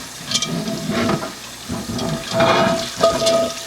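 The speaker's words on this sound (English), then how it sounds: "I'm just bringing it into the sink here and using the hot soapy water, just your regular dish detergent, hot soapy water." Hot soapy water runs and splashes in a kitchen sink while an old cast iron pan is washed, a loud, uneven rush with scrubbing-like bursts and no voices.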